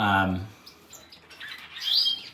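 Gouldian finches kept indoors during their molt give short bright chirps that stand out clearly near the start and again toward the end, with quieter gaps between.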